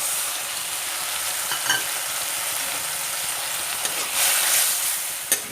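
Sewali (night jasmine) flowers sizzle and fry steadily in a pan, a continuous close crackling hiss with a few brief louder pops and stirring scrapes, no talking.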